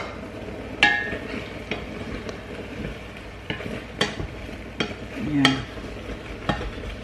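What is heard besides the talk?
chicken being sautéed in its own fat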